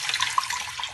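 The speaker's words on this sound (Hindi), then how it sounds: "और इसमें डालेंगे 2 लीटर पानी" Water splashes steadily into a cooking pot over cinnamon and black peppercorns for soup stock, a close, continuous bubbly pour.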